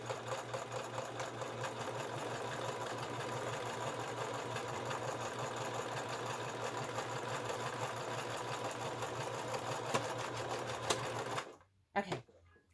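A sewing machine running a steady straight stitch across a soft fabric junk journal cover, a continuous close mechanical whir for about eleven seconds before stopping abruptly with a couple of small clicks.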